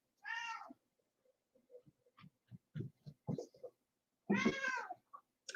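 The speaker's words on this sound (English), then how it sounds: "That is my cat that is meowing in the background" A cat meows twice, loud and drawn out at the start and end, with quiet thumps and soft tapping sounds between the calls and no speech.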